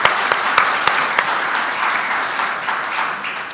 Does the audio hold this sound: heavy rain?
no